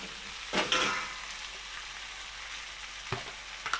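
Potatoes tossed into a pan of lightly fried onion and tomato for a prawn and okra dish: a soft steady sizzle broken by a few clattering stirs and knocks, close by, with no talking.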